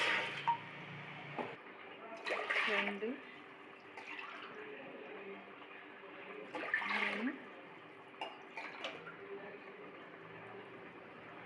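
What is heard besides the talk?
pouring cups of water into a cooking pot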